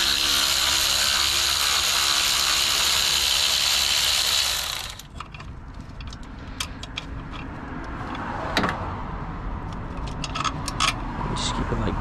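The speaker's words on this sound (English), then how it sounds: "Now we're gonna get the ratchet and take this out." A ratchet turns out an alternator bolt on a Toyota Corolla with a long, loud, close run of rapid clicking that stops abruptly, followed by quieter scattered taps and metallic knocks.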